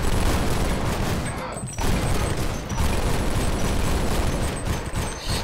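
Video game gunfire in a melee-only match in Leaden Sky, with loud, dense bursts of rapid shots crackling almost without pause and one brief gap.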